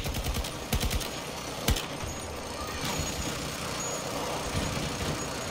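Gunfire in the online shooter game Battlefield 2042 crackles in a dense burst of shots amid loud engine and battlefield rumble, with a couple of sharper reports standing out.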